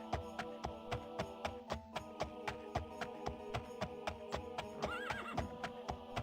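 A horse in the game The Elder Scrolls II: Daggerfall trots with steady, rhythmic clip-clop hoofbeats, and a short whinny rises briefly near the end over the repeating footfalls.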